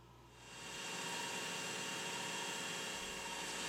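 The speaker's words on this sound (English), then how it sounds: "With progressively finer grades of emery cloth, I bring a nice finish to the bottom of the top" Emery cloth rubs against the bottom of a spinning metal top, giving a steady, close broadband hiss that swells in after a moment and holds evenly.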